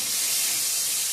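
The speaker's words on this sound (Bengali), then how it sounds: "তো বরবটি ভাজাটা এদিকে চাপিয়ে দিয়েছি" Yardlong beans frying in a pan, a steady close hiss and sizzle that holds evenly throughout with no talk over it.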